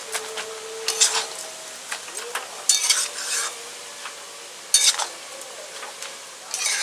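Greens (saag) with a little sugar stirred in a pot: a spoon scrapes and clatters in a few sharp bursts over a faint sizzle, up close and with no talk.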